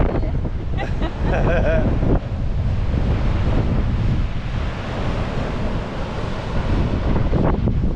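Rough surf churns and crashes continuously below cliffs near Coffin Bay while strong wind buffets the microphone, a loud, steady roar of sea and gusts.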